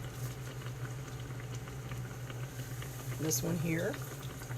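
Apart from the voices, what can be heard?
fry bread frying in hot grease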